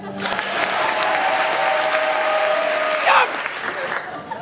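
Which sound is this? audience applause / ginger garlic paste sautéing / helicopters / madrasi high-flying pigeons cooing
audience applause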